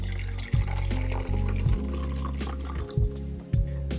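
Vinegar is poured from a bottle into a mixing container for a glass-cleaning mix, making a steady, close liquid gurgle broken by several glugging pulses.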